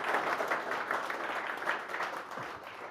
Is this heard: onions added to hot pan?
no